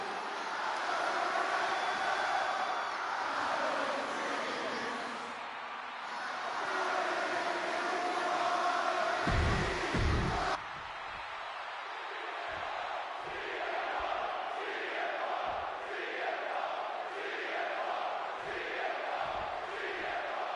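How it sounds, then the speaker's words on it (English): A packed arena crowd in the wrestling video game WWE 2K26 roars continuously, then breaks into rhythmic chanting with pulsing beats, loud and sustained throughout. "this capacity crowd just exploded"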